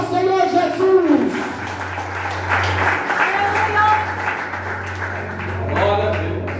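Church congregation applauding, a sustained wash of many hands clapping over several seconds, with a voice speaking at the start and end and a steady low hum underneath.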